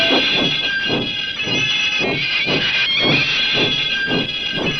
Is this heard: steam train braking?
yes